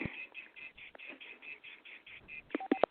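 Tones from a phone left unmuted on a group call: a steady run of repeated electronic beeps, fairly faint, ending in a few louder, sharper tones, with no talk.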